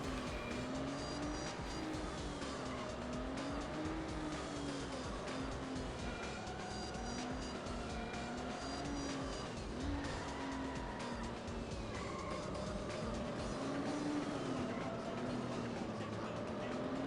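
Race cars in the video game Need for Speed: High Stakes, on lap five of an eight-lap track: a steady, loud engine drone that wavers in pitch continuously, with tire noise and passing cars mixed in.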